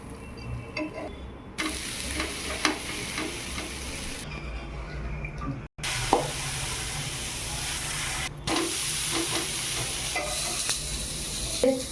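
A dosa sizzles and fries in ghee on a hot pan, a steady crackling hiss with brief interruptions and small shifts in intensity, close and fairly loud with no talking.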